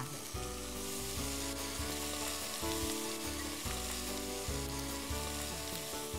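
Bacon browning in a pan for chicken in tomato sauce, a steady loud sizzle and crackle of fat running throughout with no talk.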